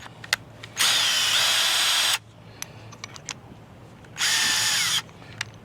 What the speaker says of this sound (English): We're going to drill a few holes in the bottom of it so the water can drain